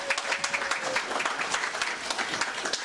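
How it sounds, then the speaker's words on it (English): Steady audience applause at a nonprofit panel event, an even wash of clapping that fills the whole short stretch at moderate volume with no voices over it. "Please give a round of applause to Ms."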